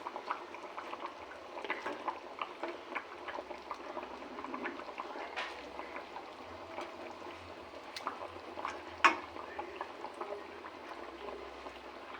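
Fish curry with potatoes simmering in a cooking pot, giving a soft, continuous bubbling with scattered small pops and gurgles, close and fairly quiet, with no talking.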